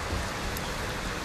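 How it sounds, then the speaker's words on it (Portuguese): Heavy rain falling over a village street after strong storms, a dense, steady roaring hiss of downpour, close and unbroken, with no talking. "Branquinha, branquinha de chuva"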